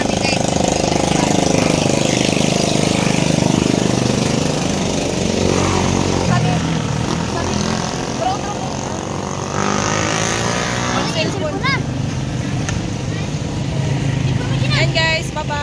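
A motorcycle rides home through rain, its engine droning loud and steady throughout with rushing wind and wet road noise, while voices talk over it.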